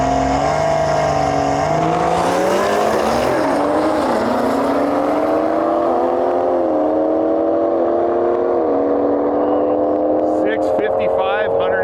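A B58-powered Toyota Supra on a drag strip makes a full pass, its engine note climbing loud and steady through a series of gear shifts over about twelve seconds, with a commentator talking over it.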